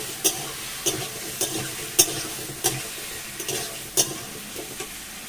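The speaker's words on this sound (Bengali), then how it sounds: "কচুটাকে আমি নেড়ে নেবো এর সাথে।" Chunks of taro root being stirred in a frying pan with oil: a continuous sizzle broken by regular scraping clacks of the spatula against the pan, about one every half second, close and fairly loud.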